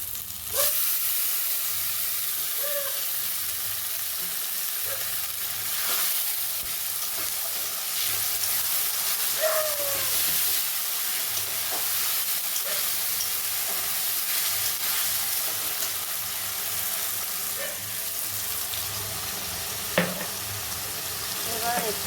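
Ground spice paste sizzles loudly in a kadai for a Bengali chicken curry, a continuous close frying hiss with repeated spatula scrapes and stirring knocks throughout.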